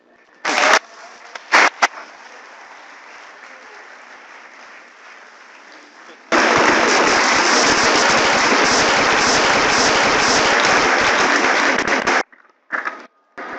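An indoor audience at an alumni mentorship and career talk breaks into loud, sustained applause for a standing ovation, a dense roar of clapping lasting several seconds after a few brief bursts and quieter murmur, then ending abruptly.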